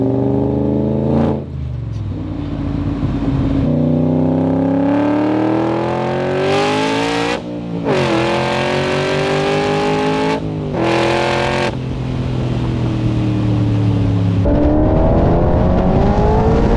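A 760 hp Shelby Cobra with a 2020 GT500 engine swap drives past up close, roaring loud as it revs hard through rising pitch sweeps, with brief drops at gear changes and a deep rumble between pulls.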